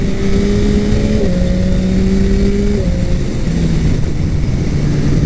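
A 2021 Yamaha MT-09 SP motorcycle being ridden, its engine droning loud and steady under heavy wind rush, pitch holding level with a couple of small drops between gears.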